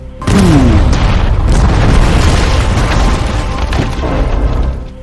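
A loud, deep explosion booms and rumbles on for several seconds, with crackling debris and a roaring low-end tail.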